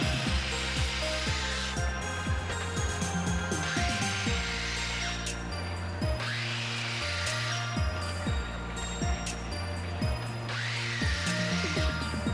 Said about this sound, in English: Now I'll take those and cut them out with a sawzall.